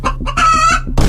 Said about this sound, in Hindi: ये तो मुर्गा है